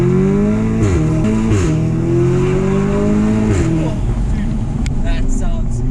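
A loud Audi S3 fitted with a Milltek exhaust rumbles and revs up in steady rising pulls, then drops back, close by, with speech partly over the engine.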